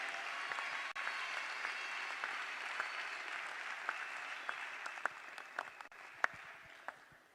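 Applause at a scholarship award ceremony in Congo, a sustained wash of clapping with a few sharper individual claps standing out near the end.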